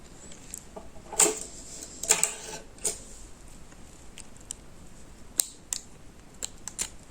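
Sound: scissors cutting yarn for amigurumi keychain

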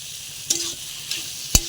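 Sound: mung dal stirred and fried with pointed gourd and potato

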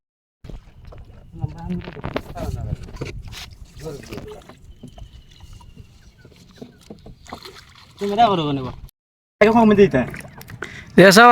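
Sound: wooden boat moving through water, pushed with a pole

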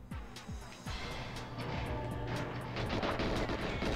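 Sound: bomb exploding in the video game Goldeneye 007

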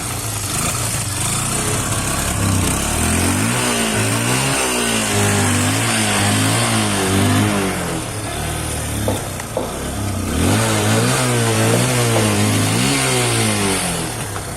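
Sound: second-hand motorcycle engine started and running

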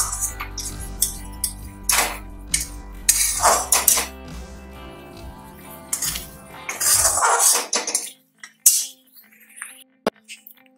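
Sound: stirring sugar and tomatoes in a pan for chutney

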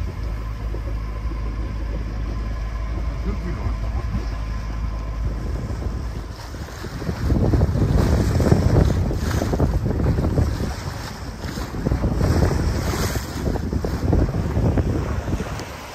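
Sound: wind blowing at sea aboard a boat

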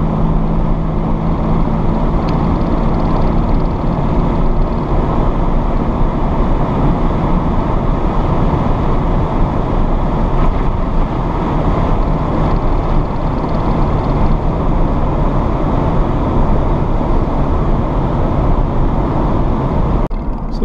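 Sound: 1986 Jaguar XJ-SC V12 car driving and accelerating to pass

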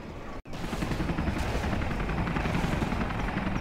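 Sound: aircraft taking off in video game C&C Generals

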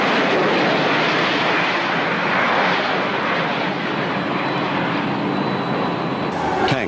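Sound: military aircraft flying

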